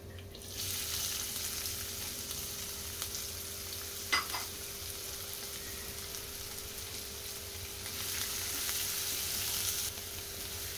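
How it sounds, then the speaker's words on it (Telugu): Onion and cumin seeds fry in a pan with a steady, close sizzle that runs throughout, broken by a brief clack of a utensil partway through. "ఆనియన్ ఫ్రై చేసుకుందాం."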